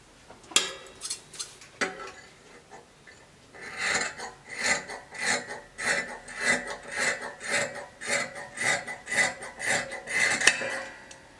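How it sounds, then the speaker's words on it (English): Scissors snip through dress yoke fabric, front and back layers cut together, in a steady run of about a dozen rhythmic crisp cuts after a few scattered snips, close and fairly quiet. "I'm cutting out the front and the back together."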